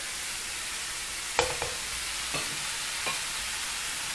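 Vegetables and meat sizzle in a hot pan under a steady frying hiss, with a few light clinks and scrapes of stirring utensils up close and no talking.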